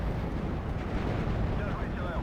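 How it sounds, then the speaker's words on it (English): A cannon shell hitting its target in the World War II strategy game Steel Division: Normandy 44, a dense, rumbling explosion that stays loud throughout with no clear separate blasts. "Wow, we actually get a direct hit with our cannon."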